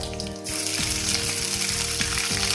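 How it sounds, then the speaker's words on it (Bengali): Ginger sizzling in hot oil in a wok with dried red chillies and five-spice tempering, a bright steady hiss broken by several sharp metallic clanks of a utensil against the pan. "এটা তো হয়ে গেলে দিয়ে দেবো আদাটা"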